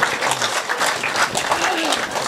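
An audience at a Haryanvi poetry recital claps, a dense, lively spatter of hands that runs throughout, with a voice and crowd murmur mixed in beneath it.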